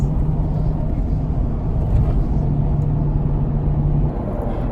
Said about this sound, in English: we are actually on the highway right now and driving and enjoying the GTR